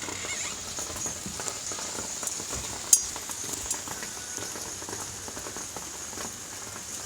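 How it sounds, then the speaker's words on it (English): Steady, dense patter of heavy rain drumming on canvas, continuous and fairly loud, with a few sharper drips standing out. "You can't really see the rain, but you can definitely hear it, right? It's on the canvas over there."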